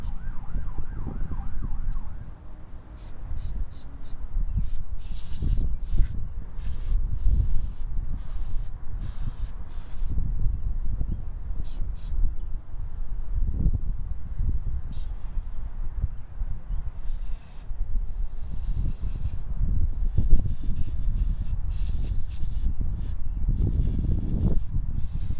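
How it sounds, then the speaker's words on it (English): A loud, steady hiss of aerosol carburetor cleaner sprayed on Honda CB750 carburetors, broken into bursts of varying length with brief gaps between them, sounding close by. "It would be a wise idea to wear gloves when you're spraying this carb cleaner."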